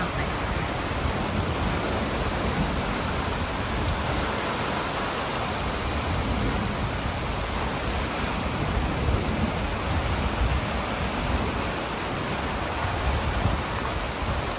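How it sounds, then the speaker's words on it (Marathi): Heavy rain pours down in the evening, making a dense, even roar that stays constant and close throughout, with no voices. "जोरात पाऊस चालू झालाय."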